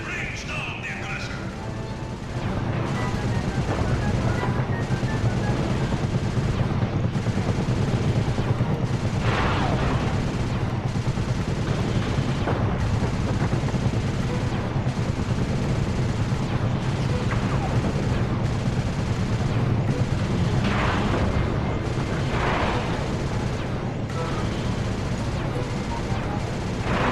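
Continuous gunfire and explosions with a dense, loud battle din and repeated heavy blasts in the Sly Cooper video game, mixed under game dialogue.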